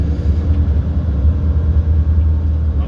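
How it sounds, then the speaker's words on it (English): A truck's exhaust brakes rumble steadily from inside a vehicle on the road, a deep continuous low drone with a slight throb, loud and close, with no voices over it. "Love the sound of those exhaust brakes."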